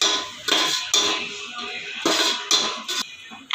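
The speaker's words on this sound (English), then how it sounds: "Now mix it well." Egg biryani gravy with curd is stirred in a pot, giving a series of close metallic scrapes and clanks from the spoon against the pot in uneven bursts, with no one talking.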